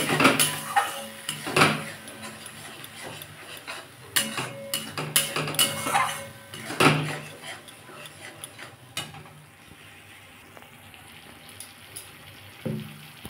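Spice masala with a splash of water is stirred and fried in a pan for a pointed gourd curry, with repeated spatula clinks and scrapes against the metal over a quiet sizzle.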